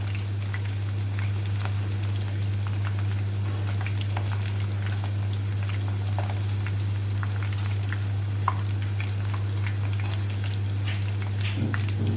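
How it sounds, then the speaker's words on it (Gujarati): Pieces of roti frying in hot oil until crisp, giving a steady close sizzle and crackle with a constant low hum underneath and scattered pops throughout. "હવે આપણે થોડીક થોડીક રોટલી અંદર એડ કરતા જઈશું અને તળતા જઈશું"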